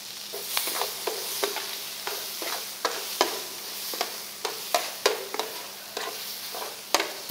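Rice being stirred into a ñora pepper, garlic and tomato sofrito in a pan, with repeated scraping strokes over a soft, steady sizzle, close by and moderately loud, no voices.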